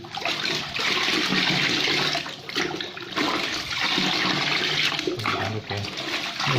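Nutrient solution of AB Mix stirred in a container of water, a steady loud rushing and sloshing of churned liquid running continuously throughout with slight surges.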